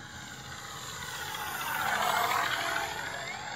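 An FMS 1700mm P-47 radio-controlled model warplane with an onboard engine sound system flies past, its simulated radial-engine drone swelling as it nears and easing off as it moves away.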